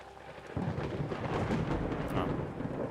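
A lightning strike in The Seance of Blake Manor game sets off a deep, loud thunder rumble that swells in early and rolls on under a rain-soaked ambience.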